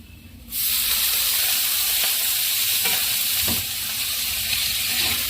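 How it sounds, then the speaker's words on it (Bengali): Drumstick leaves are tossed into hot oil and stirred in a pan for a homestyle dish. A sudden loud hiss of frying starts early and keeps going, with a few scraping strokes from the spatula. "একটু ভাজবো এটা একটু ভাজা হয়ে গেলে আমি এবার সজনে শাকটা এটার মধ্যে দিয়ে দেবো"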